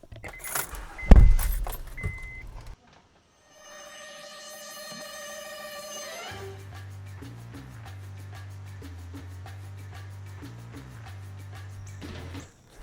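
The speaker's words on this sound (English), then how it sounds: "I need to back the car up." Keys jangle up close, then a car engine cranks and settles into a steady idle as the car prepares to back up, a low continuous hum alone with no voices.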